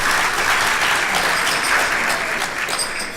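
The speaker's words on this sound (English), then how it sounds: "So give yourselves a round of applause." A conference audience of legislators claps in a strong, full round of applause, loud and sustained, with many hands blending into a dense roar that eases slightly at the end.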